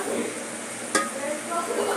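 Gongura tempering sizzles in hot oil, a steady crackling hiss with a sharp splash-like burst near the middle as ingredients drop into the pan, and stirring noise throughout.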